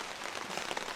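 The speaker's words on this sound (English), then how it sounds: "obviously the rain is picking up here" Steady rain falling at a rainy campsite beside a smoldering fire pit, a dense, even patter of drops filling the air without pause, no voices.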